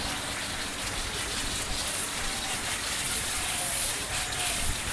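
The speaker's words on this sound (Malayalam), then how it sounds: "നെല്ലിയാമ്പതിയിൽ വന്ന് കോട കാണാത്തവർക്ക് ഞങ്ങൾ ആർട്ടിഫിഷ്യലായിട്ട് കോട കാണിച്ചു കൊടുക്കാറുണ്ട്" Steady hissing spray from an artificial fog misting system at Nelliyampathy, a continuous fine watery rush with no pauses.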